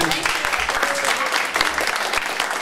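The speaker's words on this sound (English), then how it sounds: "A round of applause for Catherine." Audience applause at an Opal Network public fair meeting for a speaker named Catherine, steady broadband clapping lasting a few seconds with some voices mixed in.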